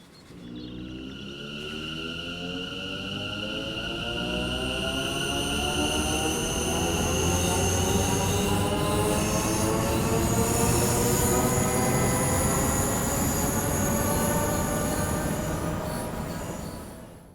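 A loud, steady electric train motor whine in Train Sim World 4 on London Overground's Goblin Line, a class 710, rising in pitch as it accelerates, with rumbling wheels underneath and no talking.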